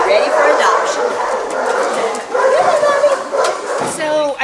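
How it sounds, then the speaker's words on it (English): A mother dog, a rescued puppies' mom awaiting spaying and adoption, whimpers, yips and gives short barks up close, a continuous run of whiny vocalising that rises and falls in pitch. "This is Nola. She is the 8 bee puppies mom"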